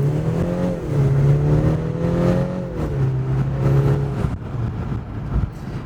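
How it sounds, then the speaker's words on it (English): A BMW 330i engine accelerating hard in comfort mode, a loud steady rising drone heard from inside the car that holds a strong tone, dips briefly, then continues before easing off near the end. "Let's gun it a little bit over here."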